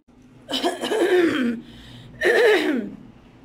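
Two loud, chesty coughs from a person with phlegm in the throat, heard close and separated by a short pause.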